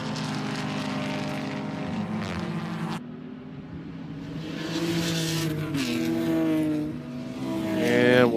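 Race cars roar past on the Road America circuit during an endurance club race, loud engine notes rising and falling with gear changes as one car fades away and another approaches and passes close by.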